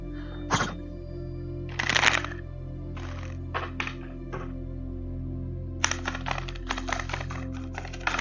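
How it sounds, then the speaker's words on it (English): Tarot cards shuffled and drawn during a live reading, with several sharp crisp card snaps and riffles spaced across a quiet background hum, close and fairly clear. "Parita, please still think about Ashley as we draw your cards"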